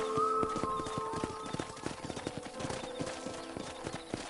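Steady clip-clop of horse hooves trotting at an even rhythm in Red Dead Redemption, moderately close, with a faint tonal hum at the start.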